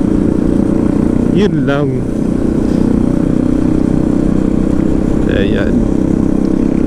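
Motorcycles ride past at an adventure-bike gathering, a steady engine drone running throughout beneath a voice talking close by.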